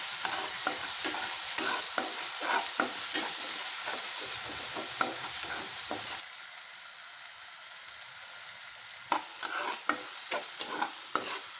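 Onion, garlic and ginger paste fries in a pan with Kashmiri chili added, a bright continuous sizzle broken by repeated scraping stirs, quieter for a few seconds before stirring resumes.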